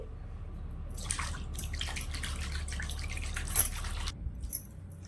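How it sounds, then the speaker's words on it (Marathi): Quiet splashing and dripping water with a few small swishes as coriander leaves are rinsed in a bowl; no talking. "अशी सगळी कोथिंबीर आहे ना मी धुवून घेते"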